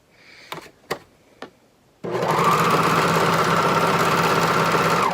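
A few quiet clicks, then a sewing machine runs steadily and loud at close range, stitching fabric pockets onto a maxi skirt with an even, continuous mechanical whir.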